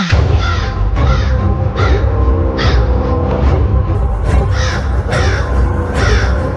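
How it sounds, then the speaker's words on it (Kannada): A crow perched on a house roof caws loudly and close, repeating harsh calls in an irregular series over about six seconds. "ಮಾವ ಮನ್ ಮೇಲೆ ಕೂತಿರೋ ಕಾಗೆ ಪಡ್ಕೋತಿದೆ"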